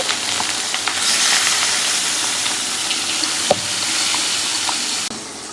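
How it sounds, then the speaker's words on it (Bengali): Fish frying in very hot oil, a steady loud sizzle with crackles running throughout and a few sharp pops, no voices. "তেলগুলো প্রচন্ড গরম হয়ে গেছে, এক এক করে সব মাছগুলো দিয়ে দিই।"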